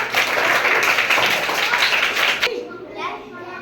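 At a children's summer camp quiz, a group of kids claps loudly for a correct answer, the burst of applause cutting off abruptly and leaving quieter room sound and voices.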